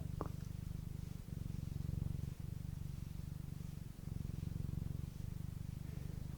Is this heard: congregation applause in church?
no